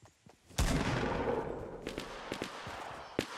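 Gunfire in the video game Fortnite: one sharp, loud shot with a long decaying tail, followed by a few fainter scattered shots further off.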